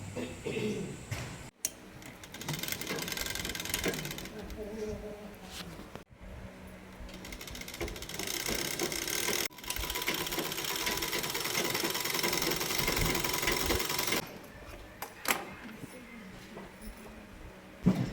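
Domestic sewing machine stitching plain pants fabric, long runs of close mechanical whirring and ticking broken by short stops, with a voice talking over parts of it.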